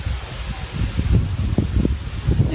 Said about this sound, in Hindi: इस टाइप की हवा चल रही है बाहर और ये ठंडी हवा है